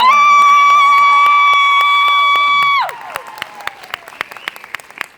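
A sustained sung or electronic tone holds, then cuts off, followed by a small group clapping and cheering after a karaoke song, claps thinning into scattered, irregular hits.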